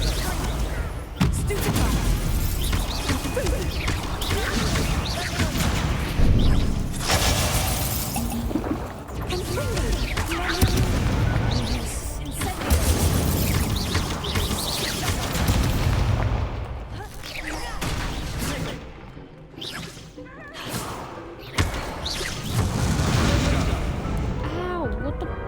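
Fire-blast Confringo spell explosions in the Hogwarts Legacy video game, a dense run of loud booms and crashing blasts that carries on steadily, mixed with game dialogue and other spoken voices.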